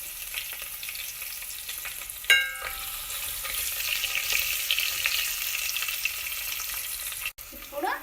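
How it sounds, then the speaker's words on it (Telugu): Green chillies and onions sizzle and crackle steadily in hot oil for Bagara rice, a continuous frying hiss with a brief stir-clatter partway through and no talking. "ఒక నాలుగు పచ్చిమిర్చి అలాగే పావు కప్పు ఆనియన్స్ బాగా ఫ్రై చేసుకోండి"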